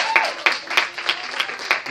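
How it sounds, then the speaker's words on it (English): A church congregation claps for the Lord in a short burst of uneven hand claps with scattered louder strikes, close and lively, while a voice speaks over the clapping. "Give the Lord a hand clap."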